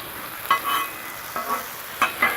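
Sauce being mixed into bacon and barbecue grilled cheese fixings on a hot Blackstone griddle, a steady close sizzle broken by several sharp spatula scrapes, with no talking.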